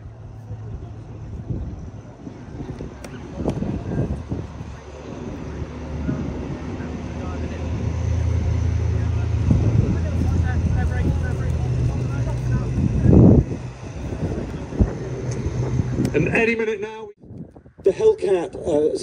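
A Bearcat warbird flies past at an airshow, its engine roar swelling from far off to a loud, close pass before fading, while spectators talk over it.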